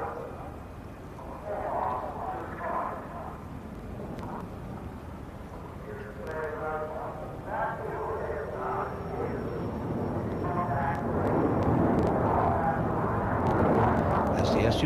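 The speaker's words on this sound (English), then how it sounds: "As the Su-35 comes round in a knife-edge turn, it enters an even more remarkable version of the Cobra" A Sukhoi Su-35 fighter jet flying a Cobra manoeuvre after a knife-edge turn at an air display, its engine roar steady and fairly distant, slowly swelling louder toward the end under continuous narration.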